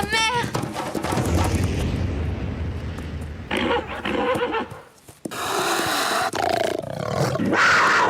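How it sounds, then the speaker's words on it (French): Cartoon puma roaring as it attacks a horse, with snarling growls and a horse whinnying amid animated action noise and dramatic music, and voices talking over parts of it. "Un puma! Il attaque un de mes chevaux!"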